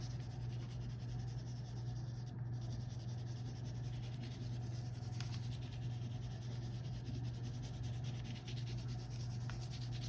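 The side of a crayon colors across paper in soft, continuous scratchy rubbing strokes, faint and close, over a steady low electrical hum.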